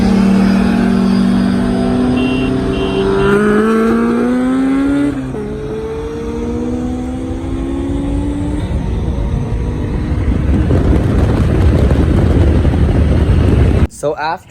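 A boosted Honda S2000 racing a BMW M4 revs loudly up through rising engine tones, stumbles and bogs briefly, then pulls on under heavy rushing wind noise, ending in a sudden clatter.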